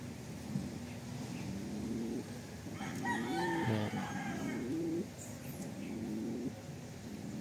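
Hens and older fowl heard nearby, with clucking and rooster-like calls rising through the middle amid steady outdoor background noise.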